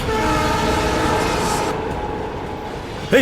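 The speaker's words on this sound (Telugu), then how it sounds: "ట్రైన్ స్పీడ్ పెరిగింది" A speeding train roars steadily and loudly close by, a dense rushing rumble with a faint horn-like tone running through it and a sharp knock at the very end.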